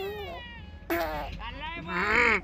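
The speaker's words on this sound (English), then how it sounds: "This is my cat." A pet cat meows several times in quick succession, close and fairly loud, the calls rising and falling in drawn-out, whining tones, with no talk.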